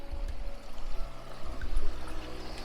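Creek water flowing steadily along a stream bank near a reservoir, a continuous broadband rush with a low rumble, close and fairly loud with no talk.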